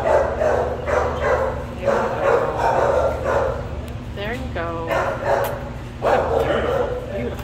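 A shelter dog barks and yips in several bursts, fairly close, while a person talks over much of it amid a steady background hum.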